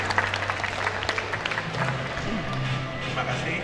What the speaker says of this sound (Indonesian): berikan tepuk tangan Pak